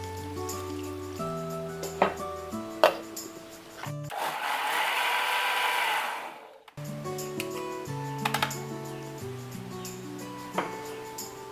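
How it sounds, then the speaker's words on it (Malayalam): An electric mixer grinder whirs for about two and a half seconds as it blends roasted sambar masala with water, a loud steady whine that starts and cuts off abruptly, with soft background music before and after. "നമുക്കൊന്ന് മിക്സിയിലിട്ട് അരച്ചെടുക്കാം."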